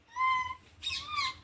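A cat meowing at home, two short, close, tonal mews in quick succession with a brief pause between, fairly clear against a quiet background.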